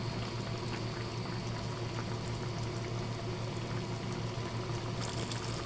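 Chicken adobo in coconut milk sauce boils steadily in a pot, a constant close bubbling and hissing simmer with no talking.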